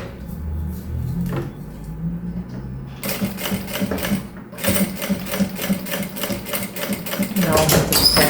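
A sewing machine stitches fabric for a small travel case in short bursts, with its rapid mechanical chatter starting and stopping. Someone speaks between the runs of stitching.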